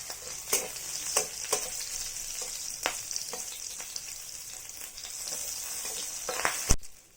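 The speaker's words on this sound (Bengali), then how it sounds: "এবার শাকটা ওর মধ্যে দিয়ে দিলাম, একটু নাড়াচাড়া করে একটু মিষ্টি দিয়ে দেবো" Leafy greens fry in a pan with oil, garlic and green chilli, giving a soft continuous sizzle broken by several sharp scraping strokes of stirring and a louder clatter near the end.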